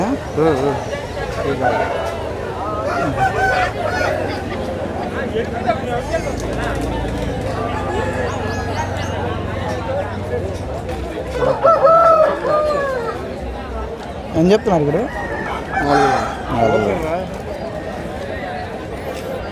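Roosters crow amid the bustle of a weekly poultry market at Savaravilli in Vizianagaram district, with several drawn-out calls rising over constant nearby conversation.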